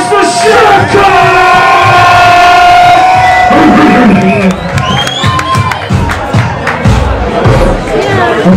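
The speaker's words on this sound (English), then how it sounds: "Hip hop, make some noise for Sugarcoat!" A large crowd at a hip hop MC battle roars and cheers loudly, with whoops and yells rising and falling under some shouted voices.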